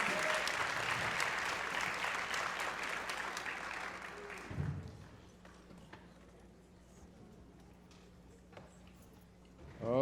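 Audience applause for the combined Kennedy and Joyce Middle School Band, a dense burst of clapping for about four and a half seconds that dies away, leaving a quiet room with a low hum and a few scattered sounds.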